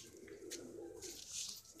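A white Madrasi pigeon gives soft, low cooing murmurs, faint and close, with a few small rustles over quiet background noise.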